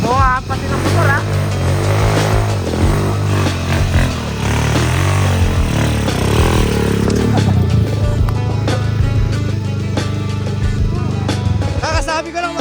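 A motorcycle engine revs and rumbles steadily up close on a trail ride, with people talking over the noise throughout.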